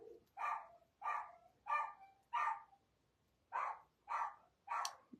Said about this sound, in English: That's Cooper. Cooper's the barker.